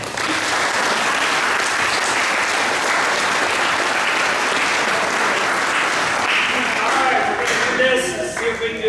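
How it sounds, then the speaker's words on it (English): Audience applauding at a high school football banquet, a full, sustained burst of clapping from a crowd in a hall, with voices rising and the clapping thinning out near the end. "let's give our seniors a big round of applause"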